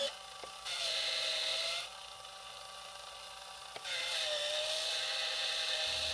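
Steady rasping of a small handheld power sander working a resin project, with broadband grinding that swells louder midway, eases, then surges again near the end, continuous throughout with no talk.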